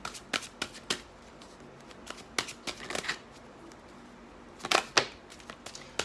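Someone shuffles a Keepers of the Light tarot card deck, making soft, quiet riffling and tapping flutters in irregular bursts, with no talking.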